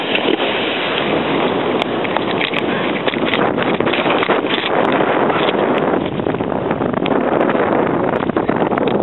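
Wind roars steadily into the microphone during kite snowboarding with two riders on one kite, a loud, constant buffeting rush with no talk over it.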